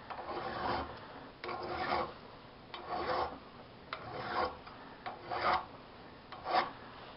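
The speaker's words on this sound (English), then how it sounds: "we're going to go around with a file. Just smooth up the edge a little bit." A hand file rasps around the cut edge of a steel bicycle steer tube in repeated strokes, each a short gritty scrape followed by a brief pause, close and without speech.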